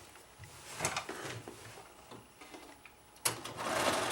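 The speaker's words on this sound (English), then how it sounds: "I'm going to sew every line I see" A sewing machine stitches along marked lines on fabric for a play backpack, running in short bursts with brief pauses and a sharper mechanical clack near the end, close and fairly quiet.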